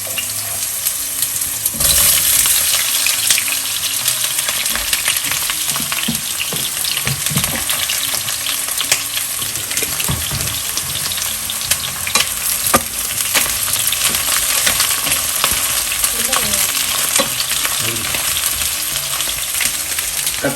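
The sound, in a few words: eggplant sautéing in oil in a pan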